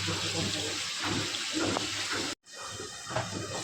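Water is poured into a simmering curry of silver carp, eggplant, beans and potato, giving a steady rushing splash that cuts off briefly, then resumes.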